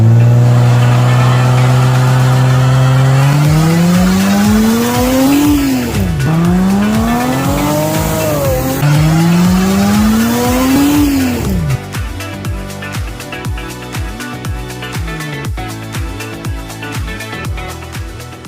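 An old, long-abandoned Lexus does a burnout, its engine revving hard in rising and falling sweeps while the tires squeal loudly, then settling into a harsh, rapid clatter toward the end.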